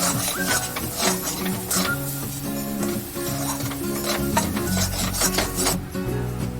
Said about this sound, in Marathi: हे मसाले सुद्धा ग्रेव्हीमध्ये छान एकजीव होईपर्यंत मिक्स करून घ्यायचे आणि भाजून घ्यायचे मंद आचेवर.